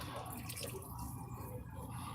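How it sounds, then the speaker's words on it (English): Water poured into a pot of Texas black bean chili, a soft steady liquid pour with light dripping, close and fairly quiet, no one speaking over it. "And I want to go back with what would equate to about a cup of water."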